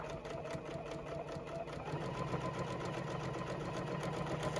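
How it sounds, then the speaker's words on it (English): A JUKI sewing machine straight-stitches slowly over the bulky seams of a tote bag, giving a steady mechanical hum and rapid needle ticking throughout with no talking. "I'm going to go back to my straight stitch on this. And I like to slow down going over those bulky seams"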